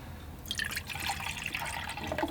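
Fresh water pours from an orange juice container into a container for watercolor painting, a steady liquid splashing and trickling that starts after a brief pause and runs continuously at close range.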